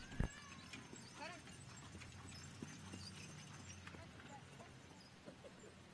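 Horse hooves clip-clop on arena footing at a Kentucky horse show, a faint steady rhythmic beat under a quiet ambient crowd and a loud knock at the start.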